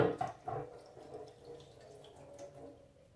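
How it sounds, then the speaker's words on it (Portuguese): Tap water splashes over a surface scrubbed with steel wool and toothpaste during rinsing, a close, steady running stream with a few louder splashes at the start. "Vou passar agora um pouquinho de água e vou mostrar pra vocês como que ficou aqui"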